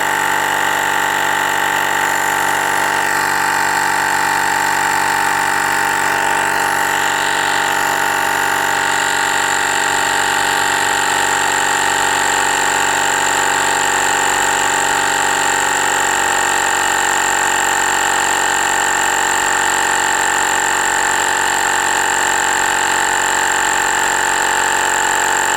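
A Fanttik X8 tire inflator pumps up a Honda CRF300L motorcycle tire, a loud, steady electric compressor whine with a constant drone that holds unbroken throughout.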